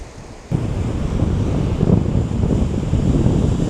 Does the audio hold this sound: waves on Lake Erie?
yes